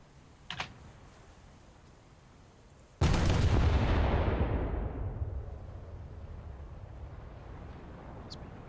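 A single heavy naval gun blast from a warship's gunners in War Thunder booms loudly and rolls off into a long fading rumble, preceded by faint soft clicks.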